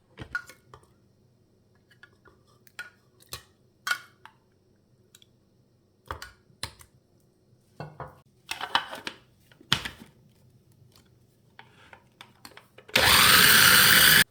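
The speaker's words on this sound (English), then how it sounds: "I have a mini food processor. So I'm just going to go ahead and do mine real quick" A mini food processor crushes pineapple chunks: scattered clicks and knocks of loading the bowl, then a loud, steady motor whir bursts in for the final second and a half.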